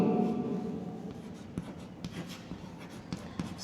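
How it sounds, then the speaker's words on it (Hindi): Pen scratching on paper while a sixth-grade maths answer is written out in class, a steady soft scraping with a few sharper strokes, close and alone. "सी में लिख देंगे"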